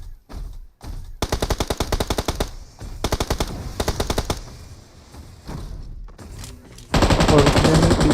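Automatic gunfire in BGMI (Battlegrounds Mobile India) mobile battle royale game, several loud rapid bursts of rattling shots separated by brief pauses, ending in a sustained dense volley.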